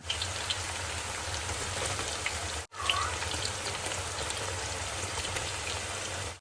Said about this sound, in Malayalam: വെളിച്ചെണ്ണ നല്ലവണ്ണം ചൂടായി വന്നപ്പോൾ നമ്മുടെ അരിഞ്ഞു വെച്ചിരിക്കുന്ന കാ അതിലേക്ക് ഇട്ട് കൊടുക്കുകയാണ്